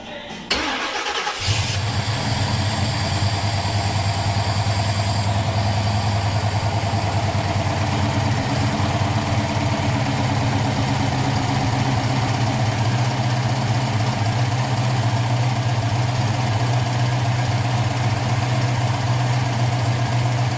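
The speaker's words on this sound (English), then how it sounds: "now we're gonna start the car and check the timing" A 1980 Pontiac Trans Am fitted with Holley Sniper fuel injection cranks briefly, catches and fires up, then settles into a loud, steady, rumbling idle that holds close and unbroken for the rest of the stretch.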